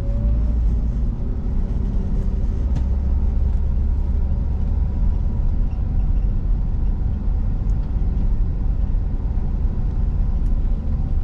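A Toyota Avanza's engine pulls steadily after a shift into second gear, a continuous low rumble with road noise from inside the car and no voices.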